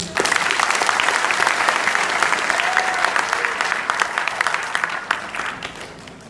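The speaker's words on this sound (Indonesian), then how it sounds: "Coba lagi tepuk tangan." A seminar audience breaks into loud, continuous applause, a dense crowd of hands clapping that holds steady and then thins and fades toward the end.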